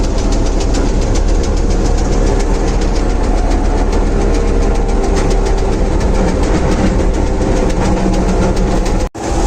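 A combine harvester threshing barley at the close of the summer harvest, a loud, steady mechanical roar with dense rattling that runs on without a break, then drops out abruptly for a moment near the end.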